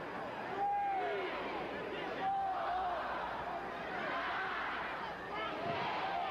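Continuous crowd murmur and chatter fills a Memphis wrestling arena, a steady mid-level hubbub with brief swells of voices, some whistle-like calls, and no clear cheering peaks.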